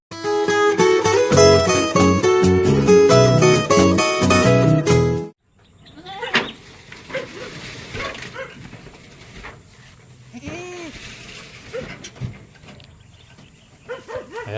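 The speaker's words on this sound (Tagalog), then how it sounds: "Yung ating mga kambing." Goats let out into the yard on a farm: after a loud burst of unrelated music cuts off, several scattered bleats and animal calls sound outdoors, some near and some farther off, amid light background noise.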